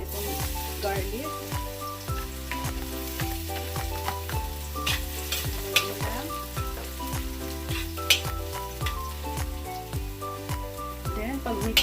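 Garlic sizzling and frying steadily in hot olive oil in a pan, a continuous close crackle and hiss with occasional pops, running the whole time with no talk over it.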